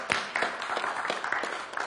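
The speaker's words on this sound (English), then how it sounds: "Come on, give yourselves a round of applause." Audience applause at a public talk on Chicago's finances, a dense wash of many hands clapping steadily for about two seconds at moderate distance, with no voices over it.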